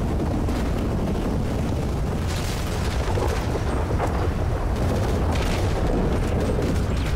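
Chaotic GTA Online street fight, with loud continuous rumbling explosions and scattered gunfire bursts layered into a dense, booming wash that never lets up.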